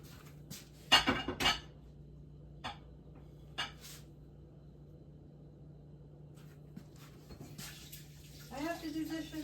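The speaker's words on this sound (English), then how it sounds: "I have to do dishes." Dishes, pots and cutlery clatter and clink in a home kitchen sink with running water, a few sharp knocks early on, then quieter scraping and splashing, with faint speech.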